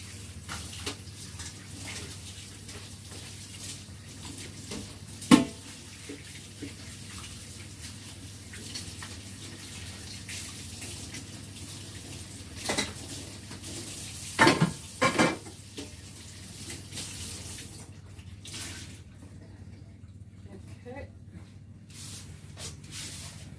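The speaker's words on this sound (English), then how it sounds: "Let me wash my hands." Hands rinsed under a running kitchen tap while baking red velvet cake and cupcakes, a steady close hiss of water lasting throughout, broken by a few sharp clinks and knocks.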